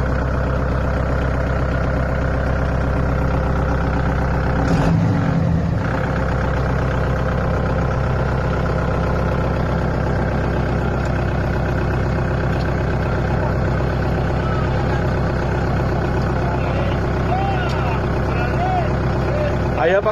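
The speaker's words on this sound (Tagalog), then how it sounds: "Rev up your engine." A tractor engine runs continuously at close range, a loud, steady mid-pitched drone with a short rougher surge partway through, and voices are heard faintly over it.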